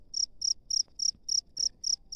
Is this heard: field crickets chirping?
yes